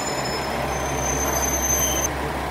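The Ibusuki no Tamatebako sightseeing train rumbles steadily into a station up close, a thin high wheel squeal riding over the heavy low drone.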